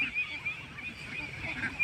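A flock of ducks at a duck gathering, raised as ducklings to about 3 kg, gives off repeated nasal honking calls, close and continuous, with no talk.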